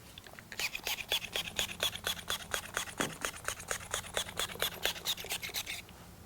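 A towel scrubs quickly back and forth over a Honda S2000 headlight to remove sticky residue, making a steady rhythmic rubbing of about twenty close strokes with no voices.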